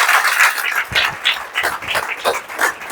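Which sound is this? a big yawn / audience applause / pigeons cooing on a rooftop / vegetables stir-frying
audience applause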